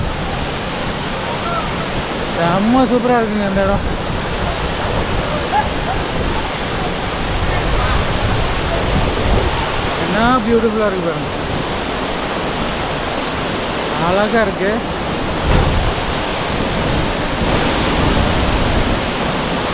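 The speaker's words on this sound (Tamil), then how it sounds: "எவ்வளோ தண்ணி கொட்டுது பாருங்கள்" Masila Falls in the Kolli Hills pours down in a constant, close roar of rushing water, while someone talks excitedly over it.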